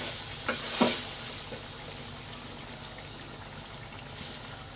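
Rice tipped into a hot pan of curry, crackling into a sharp burst of sizzling with a couple of stirring scrapes, then settling into a steady, close frying hiss.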